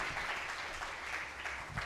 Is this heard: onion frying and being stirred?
no